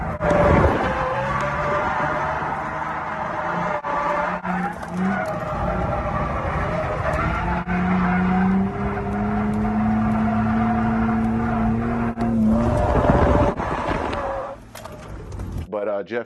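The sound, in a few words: car engine driving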